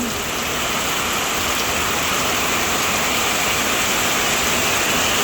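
Heavy rain pours down in a steady, dense roar over an outdoor pump-well laundry area with no roof, loud and unbroken throughout with no pauses.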